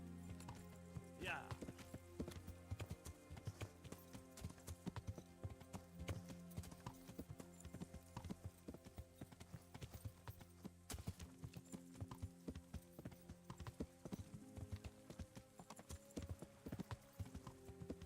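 Horse hooves clip-clopping in the medieval video game Kingdom Come, a steady rhythmic trot of sharp hoof strikes, with faint background sounds and occasional talk over it.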